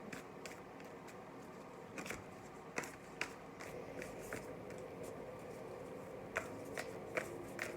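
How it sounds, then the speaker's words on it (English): Oracle cards shuffled and drawn by hand, a steady papery riffle and rustle with sharp flicks and taps scattered throughout, close and fairly quiet with no voice. "Just want to pull a quick oracle, maybe an animal card."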